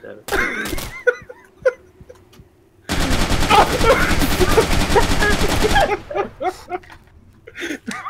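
Rapid automatic gunfire in a tactical shooter video game, a loud sustained burst lasting about three seconds, with a man's exclamations and gasps before and after.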